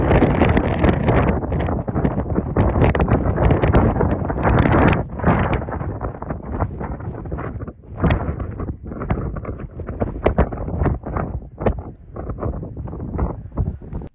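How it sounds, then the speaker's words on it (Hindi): Strong wind at the seashore roars loudly and continuously into the microphone, buffeting it in heavy gusts for the whole stretch. "इस मकाम पर इतनी तेज़ हवा है कि बैलेंस बरकरार रखना बहुत मुश्किल है"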